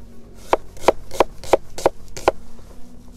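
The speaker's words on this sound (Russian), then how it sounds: "Лук режем обычный, стандарт полукольц." A knife cuts onions into half-rings on a board with six crisp, evenly spaced chops, close and distinct against a quiet background.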